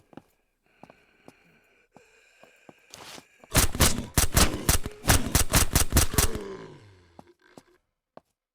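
Gunfire in the video game Surroundead: a few soft clicks and footsteps, then a loud rapid burst of about a dozen shots that fades into quiet, with no talking.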